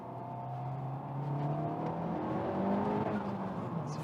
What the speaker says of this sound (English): it's a fair amount of engine noise